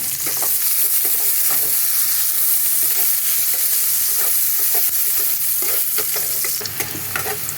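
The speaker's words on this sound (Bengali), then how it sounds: "পেঁয়াজগুলো একটু লাল লাল করে ভেজে নেব।" Onions fry in a pan over a spiced tempering of crushed garam masala. A steady, loud sizzle runs throughout, with frequent scraping stirs and no voices.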